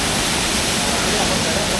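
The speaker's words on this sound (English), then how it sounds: "here we're back at the same spot under the waterfall" A waterfall at night in Furong Ancient Town gives a loud, steady broadband rush of falling water close by, unbroken for the whole moment.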